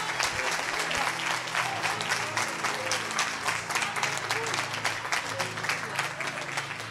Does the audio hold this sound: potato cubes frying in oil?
no